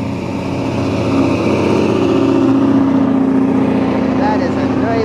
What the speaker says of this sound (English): That is a noisy car, I say.